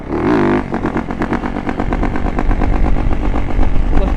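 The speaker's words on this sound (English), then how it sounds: "Let's hit a rev bomb. Rev bomb for homie. Yes sir. Big YZ." A Yamaha YZ dirt bike revs hard in a short burst, then settles into rapid, crackling engine pulses that stay close and loud for several seconds.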